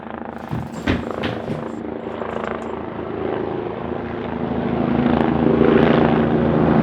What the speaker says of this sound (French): Ace, il y a des hélicoptères partout.